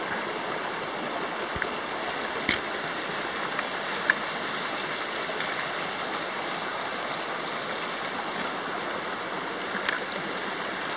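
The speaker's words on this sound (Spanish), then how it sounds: "estamos en el arroyo" A mountain stream about 900 metres above sea level flows in a constant, even rushing wash of water, close and steady, with a few faint clicks and no voices.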